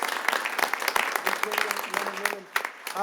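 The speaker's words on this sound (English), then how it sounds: "one more round of applause" Applause from a small audience at a city council meeting, dense clapping filling the room for about three seconds, briefly dipping near the end, with faint voices mixed in.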